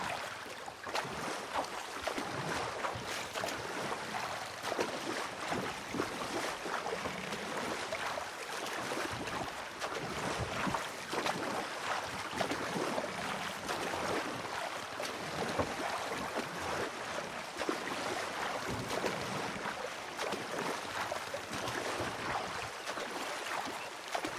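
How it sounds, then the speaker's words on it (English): Canoe rowed along a river with the current in Red Dead Redemption 2, a continuous rush of water and paddle splashing with wind noise, steady and fairly loud throughout. "Should be rowing with the current now, so hopefully the ride back is faster."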